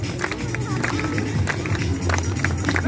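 Crowd at a motorbike show in Shepshed clapping unevenly and out of time, a continuous patter of many hands mixed with crowd noise and babble throughout.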